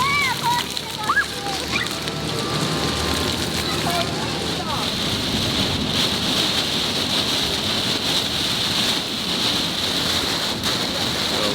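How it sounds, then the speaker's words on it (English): Heavy rain from the tail end of Hurricane Michael pours down in Florida in October 2018, a loud, steady splattering downpour, with brief voices near the start. "Stuck in rain now. This is probably the end of Hurricane Michael."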